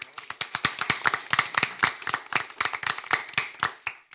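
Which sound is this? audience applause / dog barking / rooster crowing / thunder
audience applause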